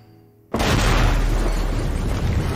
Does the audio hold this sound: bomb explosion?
yes